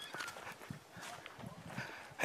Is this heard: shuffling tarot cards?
no